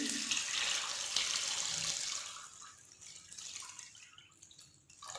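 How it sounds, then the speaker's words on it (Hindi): Water pours steadily into a cooking pot for mutton yakhni, a bright rushing splash that gradually thins out and tapers off toward the end. "इसमें मैंने 8 कप जो है पानी डाल दिया है।"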